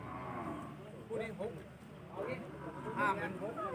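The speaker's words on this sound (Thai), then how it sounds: "นี่ครับ จะพามา ชมควายลุงเทนนะครับ" Water buffalo at a busy livestock market low in a mother-and-calf pair, giving several drawn-out, wavering moos. Nearby people talk throughout under a crowded, noisy background.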